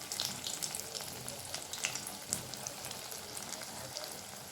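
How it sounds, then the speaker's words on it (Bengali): Rasaraj pitha frying in oil gives a faint, steady crackle and bubble, dotted with small pops and light sizzling bursts, with no voices. "দেখুন লাল লাল করে এইভাবে উল্টে পাল্টে ভেজে নেব"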